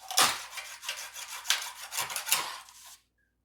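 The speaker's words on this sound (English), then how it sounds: "put them on concrete, and actually rub them down like this" Copper pieces rubbed down on concrete, about seven close, loud gritty rasping strokes in an uneven rhythm, then silence.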